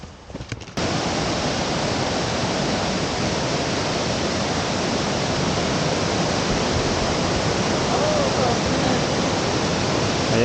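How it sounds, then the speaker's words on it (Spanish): Snow-fed mountain waterfall on a high Pyrenean peak, a steady, dense roar that holds unbroken and loud after a brief moment of quieter footsteps and rustle at the start. "Allá cascada guapa."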